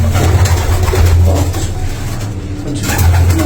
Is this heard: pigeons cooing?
yes